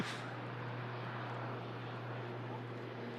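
An EasyJet airliner arriving from Amsterdam gives a broad, steady engine roar that holds at an even level throughout, with no talk over it.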